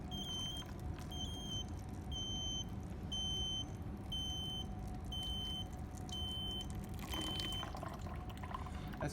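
A regular series of short high-pitched alarm beeps from an automatic gardening system's low-water buzzer, about one per second, over a steady background rumble of running water or traffic.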